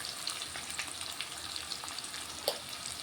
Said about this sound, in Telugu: ఈ కర్రీకి అయితే కొంచెం జీలకర్ర ఆవాలు ఇలా ఎండుమిర్చి వేసుకుంటే చాలా బాగుంటుంది